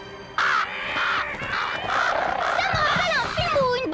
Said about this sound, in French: Vous avez vu tous ces corbeaux?